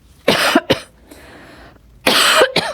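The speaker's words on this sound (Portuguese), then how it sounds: "Ainda tossindo até melhorar." A person coughs close by in two harsh bursts of two coughs each, separated by a quiet breathy pause, with no talking.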